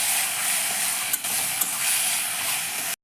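Bottle gourd peels frying with turmeric, chili and cumin powder in a pan give a steady, close broadband sizzle and hiss, with a couple of faint clinks, cutting off abruptly at the end.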